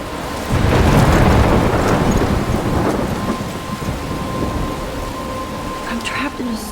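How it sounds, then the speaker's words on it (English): Storm in the video game Life is Strange: loud rushing rain with a heavy thunder rumble swelling early and fading, plus faint tonal game sounds toward the end. "I'm trapped in a storm?"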